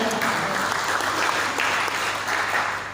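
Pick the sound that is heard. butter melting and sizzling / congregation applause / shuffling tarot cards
congregation applause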